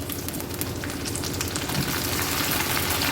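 Onions sizzle in hot oil in a pan, with a dense, steady crackle and hiss that stays even and close for the whole short stretch, with no talk over it.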